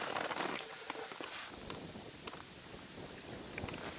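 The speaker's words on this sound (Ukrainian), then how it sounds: "Вітер несе постійно з такою швидкістю" Steady wind blowing across an open microphone while fishing, a rushing broadband roar with gusty swells and faint splashing of water nearby.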